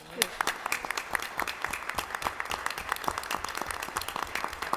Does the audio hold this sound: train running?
no